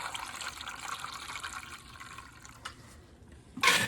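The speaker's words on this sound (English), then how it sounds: "You're gonna pour your Descale solution directly into here." Descale solution pours into a Scotsman ice machine, a soft liquid trickle running steadily before a brief, louder splashing gush near the end.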